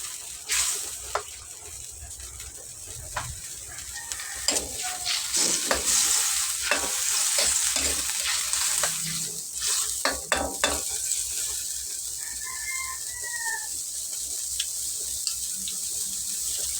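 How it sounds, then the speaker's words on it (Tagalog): Chopsuey vegetables are stir-fried in a pan, giving a continuous sizzle and hiss with frequent scraping and tapping of a utensil against the pan, close and loud, without speech. "Stir fry."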